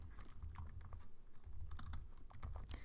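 Rapid typing on a computer keyboard, a steady run of close, crisp key clicks with a low hum underneath and no voice.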